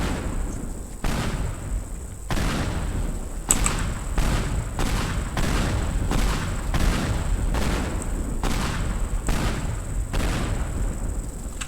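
Continuous rolling explosions tear apart a train station in the destruction game Teardown, loud booms and blasts following one another every second or so over a dense rumbling roar, with no talk.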